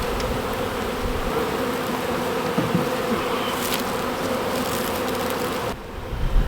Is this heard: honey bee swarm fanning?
yes